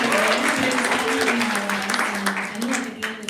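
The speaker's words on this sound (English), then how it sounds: "So she deserves a round of applause for that." A live audience at a Super Tuesday event applauding, a steady wash of clapping heard from a distance, with a low hum running underneath throughout.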